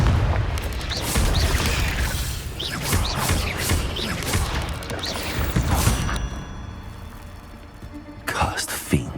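Confringo spell blasts in Hogwarts Legacy, a run of booming fiery bursts with crackling debris over a dense battle din, and a voice calling out among the impacts.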